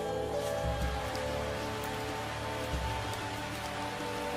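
Rain pattering on leaves in a tarsier's forest habitat, a steady dense hiss of drops with a few louder nearby taps, continuous and fairly soft, no voices present.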